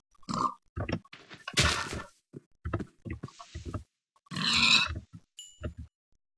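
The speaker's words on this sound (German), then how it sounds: "Da ist ein Schwein." A pig grunting in the Minecraft video game, several short rough grunts and snorts in a row, close and fairly loud, with a few brief gaps of silence between them.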